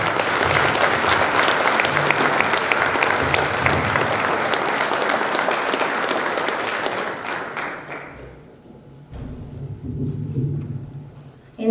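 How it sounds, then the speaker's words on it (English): A high school scholarship banquet audience breaks into loud, sustained applause that fades after about eight seconds, followed by quieter murmuring and a speaking voice. "Give her a big round of applause."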